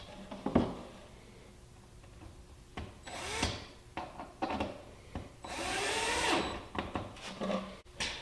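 A chest of drawers is sanded with coarse 120-grit sandpaper, giving scattered rough rasping strokes and a longer sustained scrub, with knocks and handling noise between them, close and without talk.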